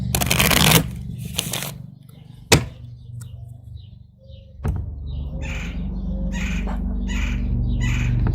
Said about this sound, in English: I can't even spit out fast enough while I'm shuffling these cards.